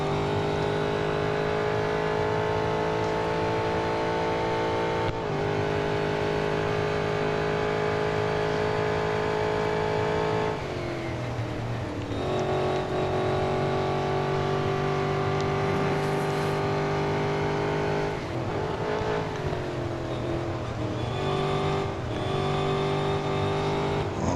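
A Porsche race car engine in Real Racing 3 drones loudly and continuously, its pitch shifting through gear changes and dipping on braking into curves before climbing again, with no talking.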